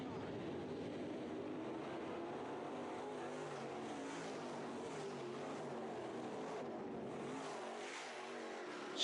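Modified race cars roar down the back straightaway of a dirt oval toward turns three and four, a dense, sustained engine drone at a distance, steady and unbroken with no talk.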